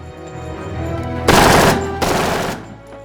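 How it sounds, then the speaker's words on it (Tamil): Hijackers open fire during the Entebbe rescue raid, Operation Thunderbolt: two loud, close bursts of rapid automatic gunfire follow a low rumble, the second slightly shorter and quieter. "கடத்தல்காரர்கள் சுதாரித்து கொண்டு சுடத் தொடங்கினார்கள்"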